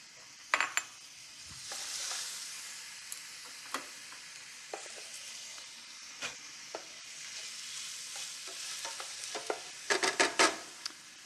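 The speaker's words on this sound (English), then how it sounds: "I'm going to introduce some aromatic vegetables. I've got onions here, and those are going to go into the pan" Onions sizzle in a hot pan as aromatic vegetables are browned for braising. A soft, steady frying hiss runs throughout, broken by scattered clinks and scrapes of stirring, with a louder cluster of clatter near the end.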